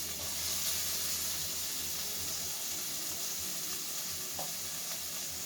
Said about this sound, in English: I'm going to throw this in the pan, let this saute